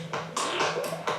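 A DJ track playing through a mixer with its low end cut by a high-pass filter, leaving thin, bright hi-hat and snare-like hits in a quick rhythm, moderately loud and with no voices.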